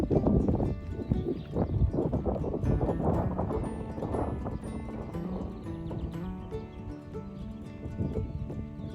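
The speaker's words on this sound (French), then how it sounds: "Et là ton cheval, là il trotte" A horse trots during a riding lesson, its rhythmic clip-clop hoofbeats close and steady against a brief neigh-like tone, with no talk over it.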